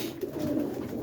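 Pigeons cooing inside a loft on a rainy morning, a soft continuous low warbling close by with no talk.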